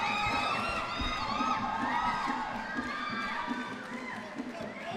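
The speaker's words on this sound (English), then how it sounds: "just take a listen to the cheer from the Marriotts" A large crowd at a football match cheers and roars continuously after a penalty, with whoops and high shouts rising over the din, loud and sustained before easing slightly.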